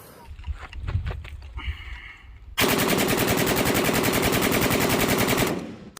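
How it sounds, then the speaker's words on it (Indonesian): Toy AK-47 gun firing a loud, continuous rapid burst of electronic machine-gun sound effect lasting about three seconds, preceded by quieter handling noises and faint background sounds. "Yang ini tembak-tembakan AK-47."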